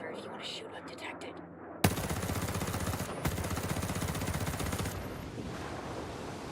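Sustained automatic rifle fire from an M4A1 CQC in the Ghost Recon Breakpoint shooter game, a loud continuous burst of rapid shots starting abruptly after quiet background sound, running for several seconds before easing off.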